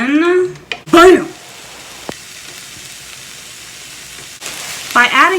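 Garlic and spices sizzle in hot fat for chili mac, a soft steady frying hiss running between louder bursts of speech.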